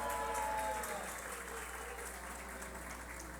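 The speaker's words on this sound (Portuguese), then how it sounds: "Uma salva de palmas." Applause fills a formal ceremony honouring faculty at a state legislative assembly session, a steady dense clapping from a large audience that holds throughout and eases slightly after the first second.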